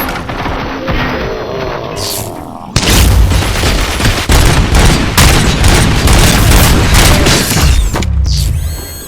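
Heavy gunfire and explosions in RoboCop: Rogue City erupt after a brief quieter lead-in, with dense rapid shots and booming blasts layered loudly for several seconds before fading into a lighter mechanical tail.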